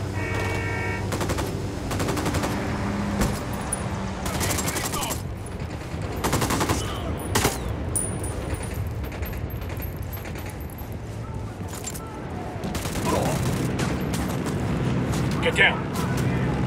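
Gunfire in the Ghost Recon Wildlands video game: repeated bursts of automatic rifle fire and loud shots over a dense combat soundscape, with voices talking throughout.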